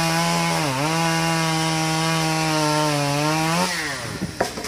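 A chainsaw runs steadily at high revs for several seconds, its pitch dipping briefly as it bites into the wood of a tràm bông vàng tree, then winding down near the end.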